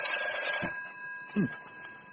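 A telephone bell rings in a radio drama, two clear bursts of ringing over a steady background hum, with no voices.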